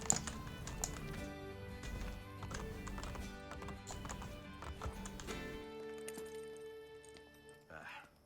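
Rhythmic clip-clop of horse hooves with an occasional whinny under layered game music in an Assassin's Creed video game, stopping abruptly near the end before a brief burst of sound.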